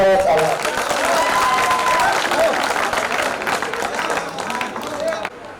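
Loud, sustained applause from a large crowd at a patriotic Indian stage event, dense clapping with a little crowd noise throughout that cuts off near the end.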